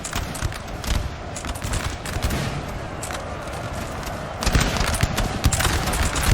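Musket volleys crackle in dense, continuous flanking fire during a large Napoleonic battle in Napoleon Total War, with scattered shots swelling louder toward the end and faint hoofbeats in the background.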